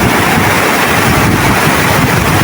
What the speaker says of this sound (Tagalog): Ayan ang kailugan. Ang lakas tubig niya rito.